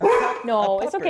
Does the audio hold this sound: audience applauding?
no